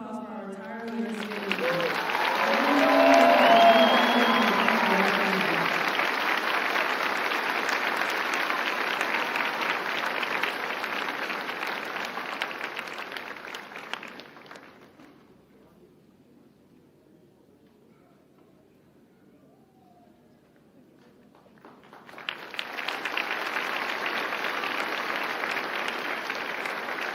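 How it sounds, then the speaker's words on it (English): A crowd at a Fort Jackson basic combat training graduation and retirement review applauds a retiring Army sergeant first class: a loud sustained wave of clapping that fades to near silence, then rises again. A voice speaks briefly at the start. "Please join me in a round of applause for our retiree."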